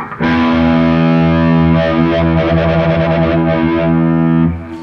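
A distorted electric guitar note sustains as a Phase 90 phaser pedal sweeps through it while its knob is turned, producing a swirling, whooshing movement that speeds up mid-note.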